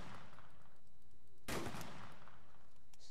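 A single loud, sharp gunshot from a slug-loaded gun in the video game DayZ, a sudden blast in the middle of quiet ambience with a brief decaying tail.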